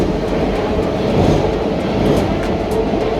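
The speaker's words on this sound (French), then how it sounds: "J'étais un peu ric-crac au niveau du temps donc j'ai décidé de prendre le métro." Paris metro train rolling along, a steady loud rumble with faint rhythmic clicks of wheels on rail, continuous and close as if heard from inside the carriage.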